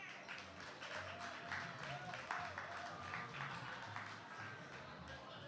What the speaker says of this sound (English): Keep clapping, keep the applause going.